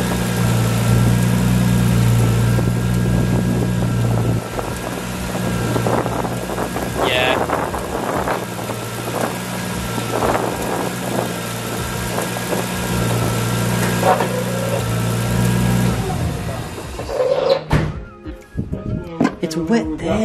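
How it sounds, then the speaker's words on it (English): A Nissan Skyline engine, under repair for an oil leak, idles steadily and fairly loudly nearby with a low humming drone, then cuts off near the end, leaving scattered knocks and handling noises. "we'll start up the car again"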